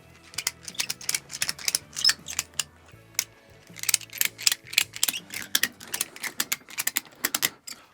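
Ratchet straps are cranked tight around a motorcycle frame, a close series of sharp rapid clicks in bursts with brief pauses, no talking.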